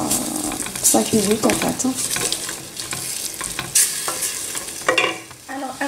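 Meat with onion, herbs, pepper, turmeric and cinnamon sizzles and browns in a pan, with loud frying crackle and repeated stirring scrapes while someone talks over it.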